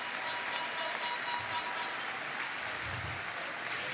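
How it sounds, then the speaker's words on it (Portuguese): Congregation clapping at a men's church congress, a dense, continuous wash of applause that stays steady and moderately loud, with a faint voice or two underneath. "Se é para Jesus, aplauda mais forte."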